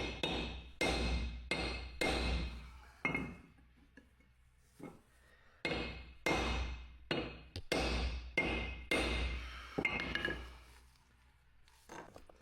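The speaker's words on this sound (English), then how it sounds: "Use a chisel to straighten the outer part of the steering shaft as much as possible" Hammer blows on a chisel straightening the outer part of a Toyota Camry 2011-2018 steering shaft: loud, close metallic strikes in quick bursts of three to five, separated by short pauses.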